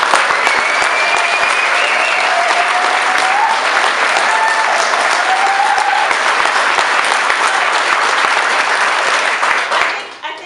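Sustained applause from a large audience at a local council session, a dense even wash of clapping that holds steady for about ten seconds before trailing off at the end.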